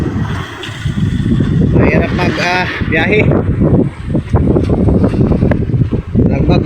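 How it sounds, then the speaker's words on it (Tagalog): Strong wind at sea buffets a boat and roars into the microphone as a rough, gusty rush, with someone talking over it throughout. "Malakas ang hangin."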